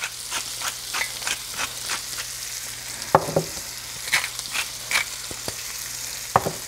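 Thinly cut shiitake mushrooms, seasoned with salt and pepper, sweat down in a pan with a soft continuous sizzle and scattered crackling pops, plus a few louder clinks and scrapes of stirring.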